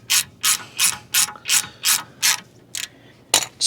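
A ratchet wrench bottoms out wheel studs against the rear hub of a 1988-2001 Mercedes-Benz R129 during a wheel bearing replacement. About nine loud, close ratcheting bursts come in a steady rhythm with no talking.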